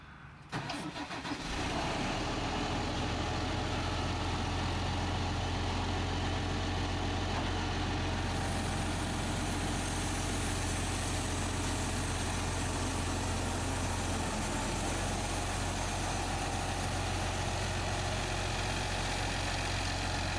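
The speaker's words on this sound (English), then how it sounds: "now we're going to drive the tractor in a half circle as tight as we can" A New Holland T8 Tier 4 tractor starts with a brief burst, then its engine runs in a steady, loud, close drone at low speed through a slow, tight half-circle turn, with no voices.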